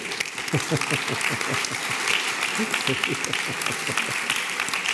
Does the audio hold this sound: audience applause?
yes